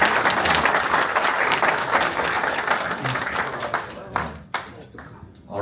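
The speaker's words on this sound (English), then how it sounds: "big round of applause for Jamie Connolly." A large crowd at a pipe-making competition's awards gives sustained, dense applause. It stays loud for several seconds, then thins into a few scattered claps and fades.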